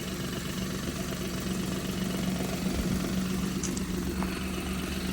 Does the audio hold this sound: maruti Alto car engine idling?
yes